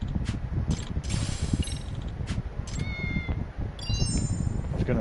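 A cat meows several times in the video game Kaito Files, short bright calls repeated in quick succession over a noisy, rumbling ambient background.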